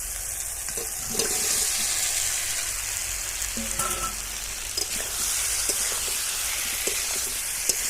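Pieces of elephant foot yam fry in oily spice masala in a pan, a continuous crackling sizzle with scattered spatter pops and a few stirring knocks, close and steady, no talk.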